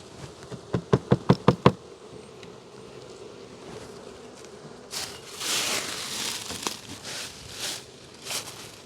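Close to a beehive's top box, a quick series of about seven sharp knocks gives way to a soft, rustling buzz of bees that swells in the second half.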